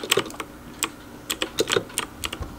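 Keys clack on a mechanical gaming keyboard connected to an Xbox, typed in irregular bursts of sharp, close clicks with short pauses and no talking.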